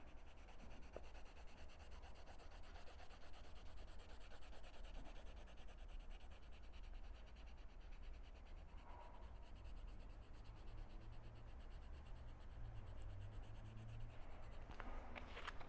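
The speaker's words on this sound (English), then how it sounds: "if we move over to the black sheet of paper and find one of these spots to color in" A crayon scrubs back and forth across black paper, a soft, faint, continuous rubbing and scratching texture, close up and steady throughout.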